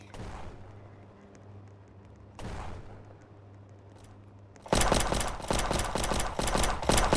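Two distant booms land a couple of seconds apart, then rapid bursts of gunfire crackle loudly in a fast, continuous volley.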